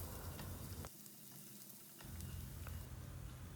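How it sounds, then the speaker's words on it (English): Minced garlic and ginger sauté in a pan over a medium flame, a faint, even sizzle with a couple of light stirring ticks and a brief quieter dip partway through. "now we need to saute them well on medium flame until they turn aromatic and golden brown"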